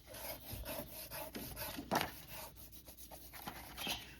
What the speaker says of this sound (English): I'm going to take my bone folder and I'm going to rub it all along the bottom to get this glued down really nicely.